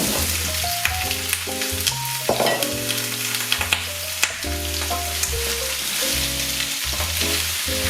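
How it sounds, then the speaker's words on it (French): Onions and parsnips fry in olive oil in a pan, a constant close sizzle with occasional stirring scrapes, set under steady background music and no talk. "Donc je viens rajouter de l'huile d'olive et je viens ici mettre mes oignons. Et à ça, je vais rajouter mes panais."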